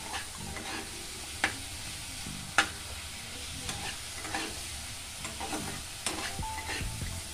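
Bata fish fried and stirred in spice paste for Bata Macher Jhal, with a steady low sizzle under repeated scraping strokes of a spoon in the pan and a few sharper clinks, close and fairly quiet with no talking.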